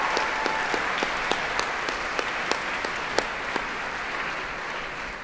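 Audience applause for a girls' high school choir at a gala singing concert, sustained dense clapping from a large crowd in a hall with a few louder individual claps popping out.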